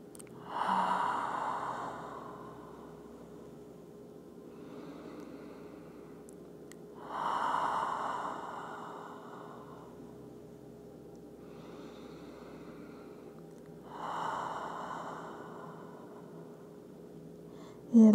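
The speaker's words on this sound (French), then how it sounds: "3 respirations profondes ici." Three slow, deep breaths during a yin yoga child's pose, each a soft, long exhale spaced several seconds apart, close and quiet with a faint steady hum underneath.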